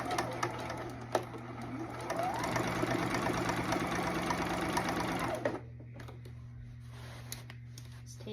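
A sewing machine stitching a sleeve into a denim jacket at a 5/8 inch seam, a fast steady mechanical whir running for about five seconds before stopping, leaving a quiet room hum.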